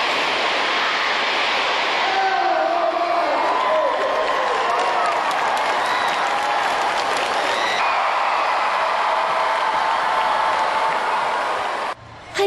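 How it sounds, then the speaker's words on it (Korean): A packed stadium crowd roars and cheers at an opening ceremony, a dense sustained wash of voices and applause that holds steady throughout before cutting off abruptly at the end. "개막식의 열기는 여기에 모인 모두의 함성으로 최고조에 이른다."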